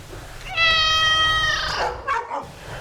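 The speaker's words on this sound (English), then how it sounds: "What's that? Is that a cat?" A cat lets out one long, drawn-out meow that bends downward at the end, followed by a couple of shorter chirping sounds, loud and close over a low background hum.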